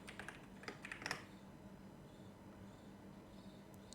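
Quick bursts of clicking keystrokes sound from a computer keyboard, with a cluster of taps in the first second and fainter scattered clicks afterward, quiet and close over a low room hum.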